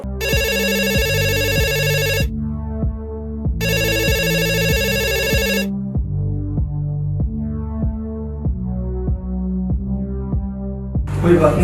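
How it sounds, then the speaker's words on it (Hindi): A phone rings in two long electronic bursts separated by a pause and goes unanswered, while a steady thumping music beat carries on underneath. "फोन क्यों नहीं उठा रही है"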